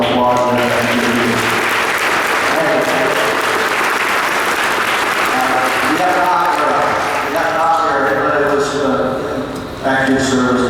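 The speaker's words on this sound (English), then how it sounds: "Give these folks a round of applause." Audience at an elementary school Veterans Day ceremony giving a sustained round of applause for standing veterans, loud and continuous, with music and voices mixed underneath.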